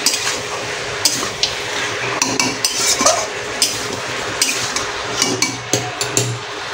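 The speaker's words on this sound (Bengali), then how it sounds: "দিয়ে একটু সুন্দর করে আমরা নাড়িয়ে নেবো এটাকে।" Chicken coated in garlic paste is stirred in a pan, with a spoon clinking and scraping against the metal in uneven, close knocks over a low background sizzle.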